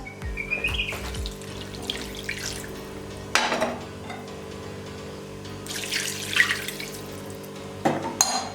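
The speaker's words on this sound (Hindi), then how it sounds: "पानी ऐड कर देंगे इसमें 2 गिलास।" Water added from a glass into a pot of mutton korma with turmeric and yogurt, a steady pouring and splashing with a few louder sloshes over a constant low background hum, no talking.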